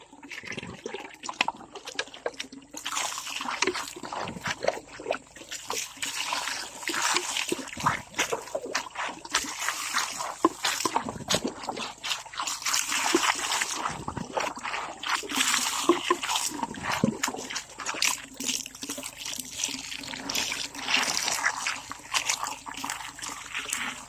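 Water from a natural spring on a farm runs and splashes steadily for the whole stretch, a continuous trickling and splattering wash that stays fairly close and dense, with a few faint voices barely present in the background.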